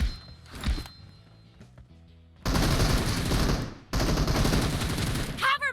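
Bursts of automatic gunfire in the mobile shooter PUBG Mobile, two long loud sustained volleys after a quieter opening of scattered sounds, close and dense, with a voice speaking at moments.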